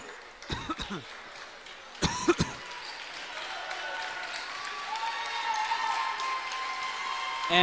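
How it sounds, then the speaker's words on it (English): Crowd applause from fans in a high school basketball gym during a free-throw break. A few coughs and sharp claps come first, then steady clapping builds and continues across the whole stretch. "these Cats faithful giving a round of applause for Andrew Pearl"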